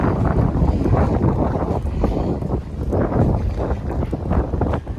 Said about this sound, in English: It's a windy day, sorry.